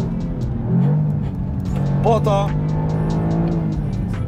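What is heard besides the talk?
Toyota GR Yaris engine revving while warming up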